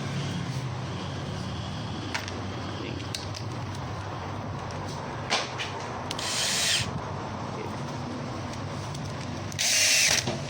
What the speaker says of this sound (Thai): ก็คือยิง จะเป็นน็อตหัวแบนนะครับหอดน็อตตัวเดียว